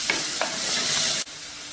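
Onions sizzle with ginger-garlic paste in a pan while being stirred for a paneer masala curry, a steady frying hiss broken by a couple of scrapes from the spoon, then the sizzle suddenly drops to a quieter level.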